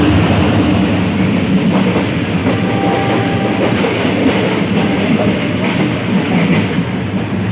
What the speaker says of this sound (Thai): รถไฟสวนเสียงดังมาก